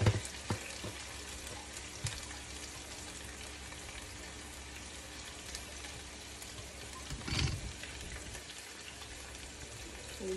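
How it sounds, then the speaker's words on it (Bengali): Onions fry in oil for khichuri, a soft, steady crackling sizzle heard up close, with a brief louder stir or clatter near the end and no talking. "আর এখানে খিচুড়ির জন্য আমি একটু পেঁয়াজ বেরেস্তা করতে দিয়ে দিয়েছি"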